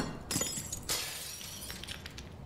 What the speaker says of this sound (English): Need to break the glass.